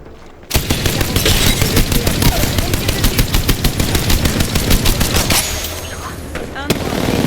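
Rapid automatic gunfire in a shooter video game rattles on almost without pause, dense volleys of close, loud shots that thin out briefly near the end before one last crack.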